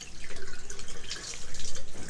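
Warm tap water at about 40 degrees Celsius runs for an ear irrigator, splashing in quick, regular pulses at close range, with no talking.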